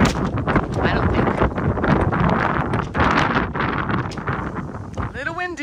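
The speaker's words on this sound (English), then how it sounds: "Little windy, folks." Loud gusty wind buffeting the microphone, with a voice heard speaking briefly near the end.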